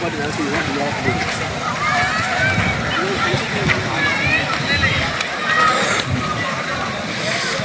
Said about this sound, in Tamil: வெளியே ஆனந்தமாக குளிக்கிறாங்க பாருங்க மக்கள்.